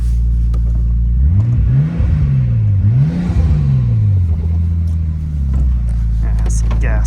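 Engine of a 1999 Nissan Skyline GTT revved twice in quick succession, each rise and fall in pitch loud and close, then settling back to a steady idle.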